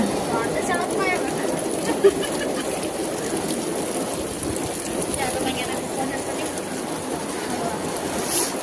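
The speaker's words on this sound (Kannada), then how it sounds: "ಓರಾಗಿ ಮಳೆ ಆಗಿದ್ದಂದ್ರೆ ಇವತ್ತ ನಮ್ಮ ಊರಿಗೆ" Heavy rain falling in a village in North Karnataka, a steady unbroken hiss and patter throughout, with voices faintly present underneath.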